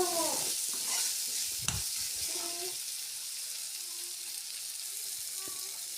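Egg burji fries in a pan over a low flame, giving a continuous hissing sizzle. A few stirring scrapes come early and then fade into the steady crackle.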